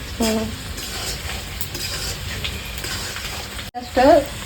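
Garlic frying in a pan while being stirred makes a close crackling sizzle under clattering spoon strokes, with a short bit of speech at the start and again at the end.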